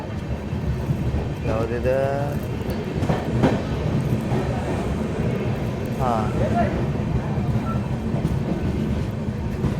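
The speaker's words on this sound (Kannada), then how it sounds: "ಯಾವುದೋ ಟ್ರೈನ್ನ ಓವರ್ಟೇಕು ಮಾಡತ್ತೀವಿ ನೋಡ್ರಿ" Train overtaking another train near Yadgir station, a steady rumble of wheels and rail noise with horn-like tones, under speech from people on board.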